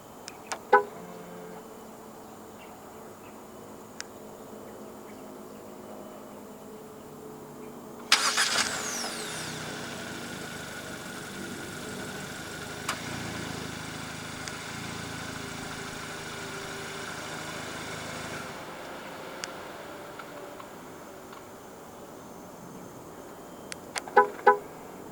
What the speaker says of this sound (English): Standard for the GS3 EMZOOM in Malaysia is a remote engine start system.